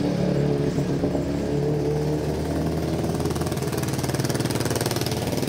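A tuk tuk's small engine runs close by on a Chiang Mai street, idling with a steady throb that turns into a quick, rhythmic, pulsing revving toward the end.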